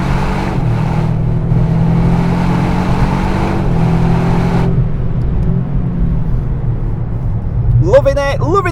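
Toyota GR Yaris automatic lapping the Nürburgring Nordschleife, a loud steady engine drone inside the cabin with shifting pitch, easing off toward the end as tires squeal briefly; voice talking over the engine.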